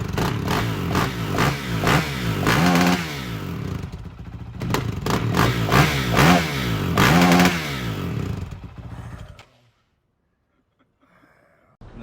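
A Honda CRF450RL dirt bike with a Yoshimura RS4 exhaust runs loud and close, with repeated rising revs and rough, rapid firing, then it cuts off into near silence.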